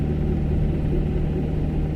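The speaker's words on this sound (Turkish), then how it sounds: "Motor devir göstergesi yine 2000 devri geçti. Araç biraz bağırmaya başladı." A car engine pulls steadily in second gear at just over 2000 rpm, a loud, close, continuous drone with a low rumbling hum and no talking.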